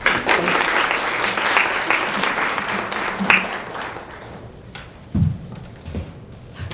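An audience at a women's investing award ceremony breaks into loud, sustained applause welcoming an Assembly Member, then the clapping thins and fades to a few scattered claps.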